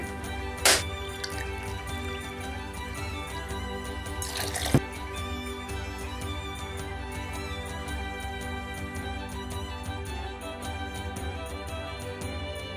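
Honey wine, mead, pours into a glass for a four-ounce measure, a soft trickling and dripping with a couple of sharp clinks, faint and steady throughout.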